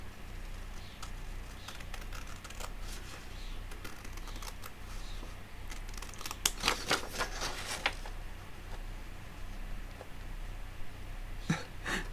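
Large scissors snip through paper while making vintage notebooks, a few quiet crisp cuts, with a brief cluster of sharper snipping clicks near the middle and another near the end.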